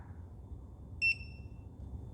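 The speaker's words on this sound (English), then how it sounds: "You'll hear some beeps periodically just to let us know that the balancing and everything is done" E-flite V900 RC battery charger giving a single short, sharp electronic beep during a fast charge, clear against a quiet low hum.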